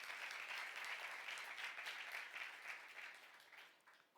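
A church congregation applauds together, a dense, steady clapping that fills the room and slowly fades toward the end.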